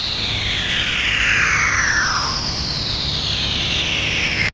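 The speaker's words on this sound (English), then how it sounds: "It's radio waves captured by Juno, translated into frequencies human ears can detect." Jupiter's radio emissions, recorded by the Juno spacecraft and shifted into the audible range, form a continuous dense hiss with several swooping tones gliding downward, steady in loudness throughout, with no voices.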